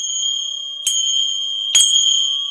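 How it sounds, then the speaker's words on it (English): Sacred chimes struck twice during an energy-cleansing ritual, each bright metallic strike ringing out with long sustained tones that linger steadily between hits, heard alone and close. "I'm going to go ahead and cleanse the energy with my sacred chimes"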